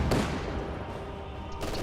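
Light machine gun fire in a WWII-style real-time strategy battle, a short burst of sharp rapid shots at the start and another at the end over a dense rumble of distant combat.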